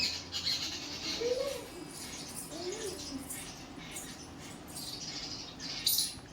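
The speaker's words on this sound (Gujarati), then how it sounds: "કાબર બુલબુલ ને લેલાયડા ને બધાય દેકારો કરે છે" Mynas, bulbuls and babblers chatter and squawk in a busy, overlapping chorus, with a couple of lower calls standing out against steady background noise.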